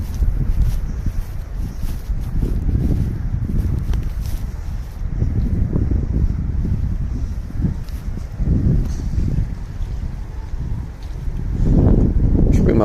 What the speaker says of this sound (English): I mean, there's a bit of wind, but it's not that bad.